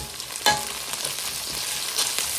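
Curry leaves and garlic sizzling in oil in a pan for a fish curry, a soft steady crackle with a few sharper pops and stirring scrapes.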